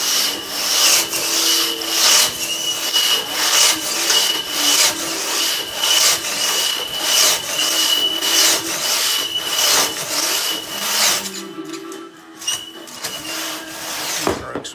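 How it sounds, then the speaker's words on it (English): Finnegar thin-plate crosscut saw working through a 17-inch log in steady, rhythmic back-and-forth strokes, close and clear, stopping near the end. "I've got a 17-inch log up right now, and I'm just going to stroke it and just see how it feels."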